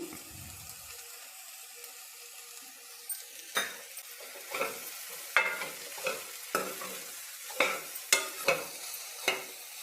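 Broccoli and chickpeas frying in a pan with sesame seeds and coriander, stirred with a steady rhythm of scraping strokes over a soft, continuous sizzle.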